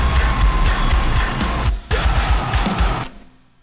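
Dense, loud heavy metal riff with distorted guitars, pounding drums and vocals, broken by a sudden near-silent gap on a snare hit before the full mix slams back and then cuts off.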